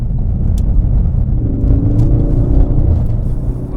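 A Ford Focus RS accelerating on the road, heard from inside as a loud, close, low engine rumble that builds and holds steadily with a faint whir over it.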